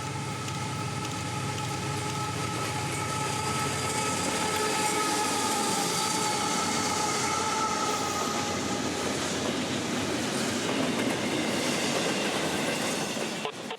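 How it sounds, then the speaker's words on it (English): Southbound intermodal freight train passing at South Waycross, Georgia, a continuous close rumble with clickety-clack of wheels and faint metallic squeal, steady throughout. "there'd be a train in the vicinity, this one coming south right for us"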